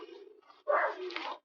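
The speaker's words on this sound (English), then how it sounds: "you can hear my dogs in the background" Dogs vocalizing nearby in short bursts, a couple of yelps and whiny barks with no talking.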